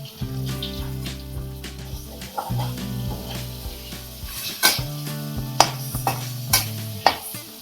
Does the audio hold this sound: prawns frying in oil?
yes